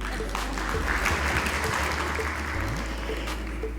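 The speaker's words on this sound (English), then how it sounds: "Clap for her again." A hall audience at a Merck Foundation event in Liberia gives sustained applause for a medical doctor, a dense, even clapping that fills the whole short stretch with a low steady hum beneath.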